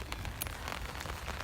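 Steady rain patters down in a cherry blossom park, a faint, continuous wash of drops with occasional crisper ticks and no voices.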